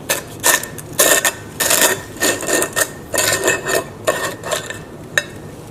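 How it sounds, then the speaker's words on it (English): A blender pulses sugar with whole vanilla pods and beans in short, rhythmic bursts, the granules rattling and whirring loudly in quick repeated pulses with no talking. "Including the vanilla pods and the vanilla beans, and you pulse it."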